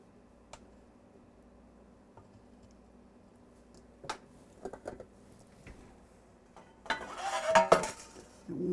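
Metal baking pans being picked up and set down in a home kitchen, greased with Crisco and dusted with flour: scattered light clinks and taps, then a louder clattering burst of handling near the end, with no talk.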